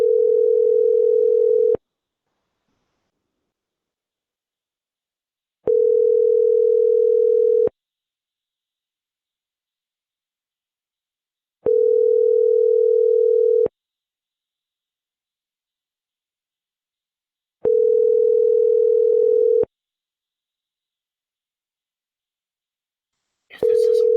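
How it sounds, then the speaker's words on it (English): A telephone line gives a steady tone in evenly spaced beeps about two seconds long with roughly four-second silences between them, repeating five times, loud and clear with no voices. "And we are dialing."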